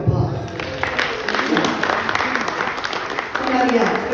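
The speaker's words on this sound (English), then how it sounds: "Give her a round of applause." Audience at a live motivational talk in Nairobi applauding, a modest burst of clapping that carries on under people speaking.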